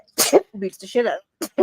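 A sharp sneeze bursts out near the start amid lively close-up chatter between several podcast hosts, quickly followed by more talking.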